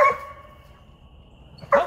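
Dogs in a training pen bark, with one sharp bark at the start and another near the end, close and loud with a short quiet gap between.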